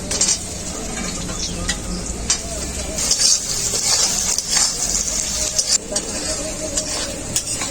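Tomatoes fry in a pan for an egg and brinjal dish, a steady sizzle layered with frequent metal spatula scrapes and stirring clatter against the pan, close and fairly loud.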